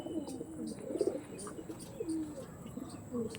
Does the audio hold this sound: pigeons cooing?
yes